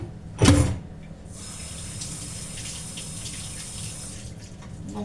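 A kitchen tap runs steadily into the sink for about three seconds while hands are washed, preceded by a brief louder clatter near the start; the water is moderately close and no one speaks.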